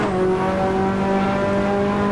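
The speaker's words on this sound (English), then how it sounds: "The engine makes really strange noises" A Ferrari race car engine in the Assetto Corsa racing game holds a loud, steady whine at high revs, constant and close, with no voices.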